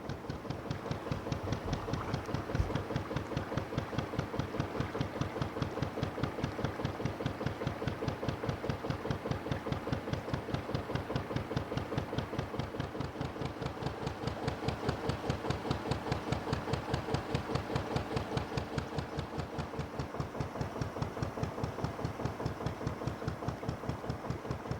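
The narrowboat Aslan's engine idles steadily and close by, a continuous rhythmic diesel chug that keeps an even beat throughout with no change in pace.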